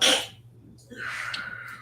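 A single sharp sneeze at the start, followed by a soft breathy exhale and faint background hum.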